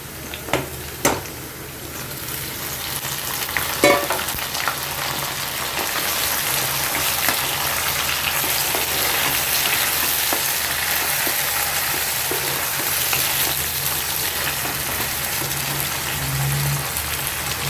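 Tomato added to fried onions in a hot pan sets off a loud, steady sizzle that swells after a few early clatters and holds as a dense crackling hiss, close up, with no talk.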